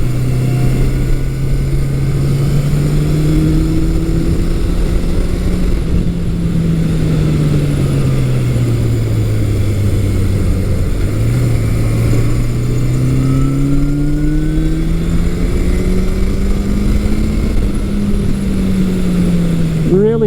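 A 1982 Suzuki GS750E motorcycle engine pulls hard and loud from up close, its steady drone rising and falling in pitch as the bike accelerates through corners, with wind rush running continuously underneath.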